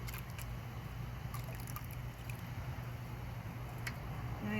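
Water sloshes and trickles in a gold pan as paydirt is gently shaken down toward the black sands. The sound is faint and continuous and is heard on its own.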